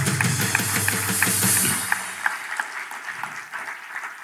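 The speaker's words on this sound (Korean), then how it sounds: "우리 박수 한번 쳐주시죠." A crowd at a Korean public rally claps steadily, a dense patter of many hands that thins out toward the end, with a low hum fading underneath.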